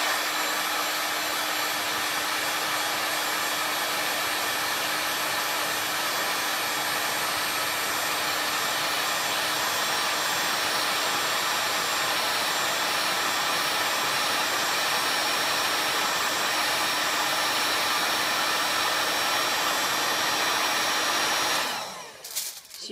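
A heat gun blows hot air over a sheet of Worbla thermoplastic, producing a loud, steady whooshing roar that holds for about twenty seconds before cutting off abruptly.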